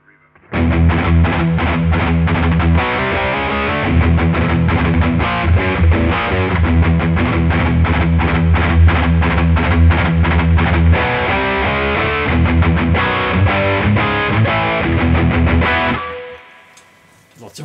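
High-gain distorted electric guitar recorded through a Hohm HR01 ribbon microphone, playing a loud, steady riff of chugging notes with heavy reverb for about fifteen seconds before it cuts off and a brief ringing tail fades out.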